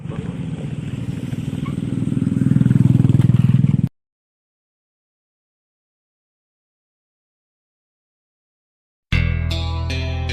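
Motorcycle engine running roughly as the bike breaks down, a steady loud drone with scraping clatter that swells and then cuts off abruptly into silence, followed by a brief burst of other sound.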